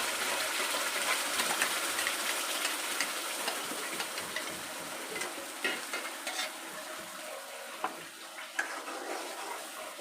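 Onion, garlic, ginger and tomato masala sizzles and fries steadily in a pan for misal, with a spoon stirring and scraping through it in irregular bursts; no voices, continuous and close.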